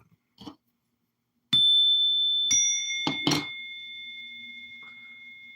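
A bell rings out in a few quick strikes, its bright tones hanging and slowly fading, after a short stretch of near silence in a political podcast setting.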